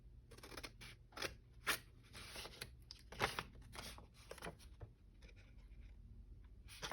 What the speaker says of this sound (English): so let's cut this little triangle out